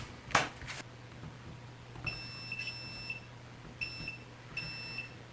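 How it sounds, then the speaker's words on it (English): Multimeter on continuity setting beeping while testing button contacts for a DIY Canon camera remote trigger, giving several short high electronic beeps in quick bursts after a sharp click, over a low hum. "we're going to just use the continuity and we're going to test that"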